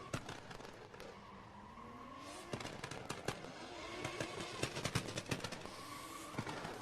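A drift car spins around a flag at the end of a slalom in a car park drifting competition in Oman, with tyre squeal and engine noise under sharp popping bangs that grow denser toward the end, heard from a distance without speech.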